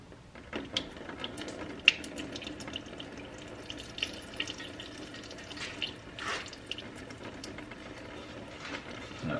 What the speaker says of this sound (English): So we can go ahead and loosen the bolt a little bit more. Let a little bit more fluid come out.